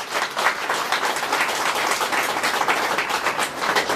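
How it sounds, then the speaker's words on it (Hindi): At a spiritual discourse, the audience breaks into loud, close clapping. Many hands patter densely and continuously without pause. "इसलिए अब थोड़ी तालियां बजा लें,"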